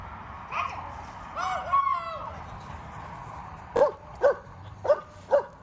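A protection-trained dog on a long send of 30 to 40 yards gives four sharp, evenly spaced barks near the end, after a few fainter yelps and some outdoor background noise.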